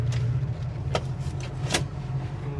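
The heater fan runs inside a 1968 Mustang coupe with a steady low hum and airy whoosh. A few sharp clicks and rattles sound close by.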